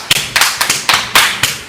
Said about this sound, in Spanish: Por favor, un fuerte aplauso para Misael Pastrana Borrero